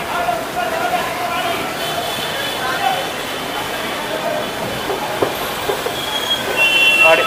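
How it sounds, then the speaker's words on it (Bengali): A Delhi Metro train rumbles along while riding inside, a continuous loud rolling roar with faint wheel squeal and rattles throughout, and people talk over it. "আমি দিল্লিতে প্রথম মেট্রো চড়ছি"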